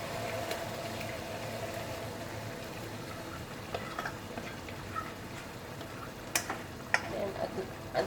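Mung beans tipped into a pan of sautéing oil for ginisang monggo, with a steady soft sizzle close by, a few light clicks and stirring knocks near the end, and a voice talking quietly underneath.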